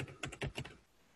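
A short run of quick keystrokes on a computer keyboard, about five soft close clicks in an uneven rhythm before falling quiet.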